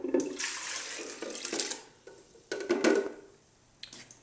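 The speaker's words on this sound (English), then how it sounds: "And then I take the soak water and the figs, and I dump it into the blender." Soak water and figs poured into an Omega blender, several short splashing gurgles in bursts with pauses between, close and fairly quiet.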